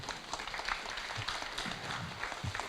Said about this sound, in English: Can you please give them a round of applause, please?